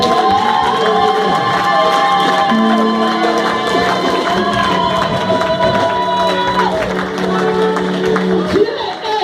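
Congregation at a Sunday church service cheering and acclaiming the Lord, a dense, loud crowd roar with shouts and whoops running steadily throughout, while a preacher's amplified voice carries over it.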